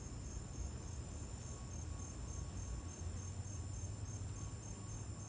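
Outdoors on a humid, roughly 80-degree late-September day, insects keep up a dense, steady chirring drone that never breaks, loud and close, with no voices over it.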